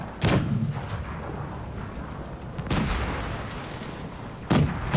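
Tank cannon shots in World of Tanks Blitz on Nintendo Switch, three loud booming blasts spaced a couple of seconds apart, each followed by a rumbling tail over steady game background noise.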